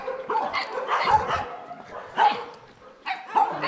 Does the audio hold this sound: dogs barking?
yes